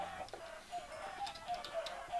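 Chickens cluck in Minecraft, soft repeated clucks scattered over a steady background hum, fairly faint and with no voices.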